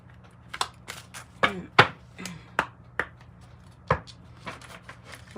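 Tarot cards being shuffled in quick, uneven bursts of crisp riffling and slaps, close by, with faint talk in the background.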